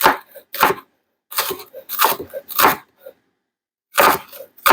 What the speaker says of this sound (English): we have our green onions, so we're just gonna get them chopped up